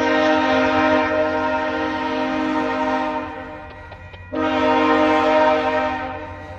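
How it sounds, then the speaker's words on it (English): A VIA Rail double-header train with Budd coaches sounds a loud, sustained multi-tone horn nearby, holding for about four seconds, breaking briefly, then blasting again over the low rumble of the passing train. "Oh no, guys, they're honking."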